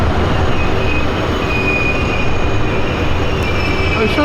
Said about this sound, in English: we just got on a train